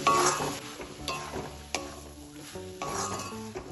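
Eggplant and drumstick flowers with cumin, coriander, chilli and turmeric powders and green chillies are stirred in a pan: soft sizzling under several distinct scraping strokes and light utensil clinks, close by, with no speech.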